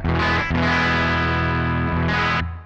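An electric guitar through a Joyo American Sound overdrive pedal plays a thick, sustained overdriven chord with a gritty distorted tone, briefly re-struck near the middle and again before fading.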